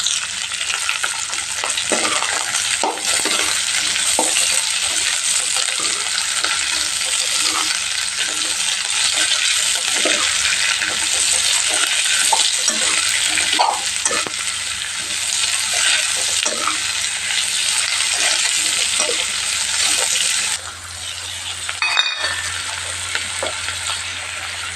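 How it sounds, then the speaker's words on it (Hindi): Crushed pizza masala fries in oil with a continuous loud sizzle and hiss, broken by frequent stirring scrapes and clinks, then briefly quieter near the end before a few more clinks. "हवे तेल में फ्राय करवुं छे।"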